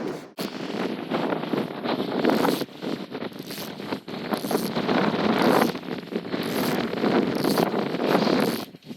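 Wind blows across a frozen lake, buffeting the microphone in loud, uneven gusts of broad rumbling noise with short lulls between them.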